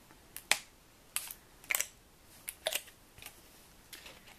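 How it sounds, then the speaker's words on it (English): A few crisp, short snips spaced apart, like scissors closing through paper, close up and moderately loud with quiet gaps between cuts. "And just come in with my scissors and cut right between them."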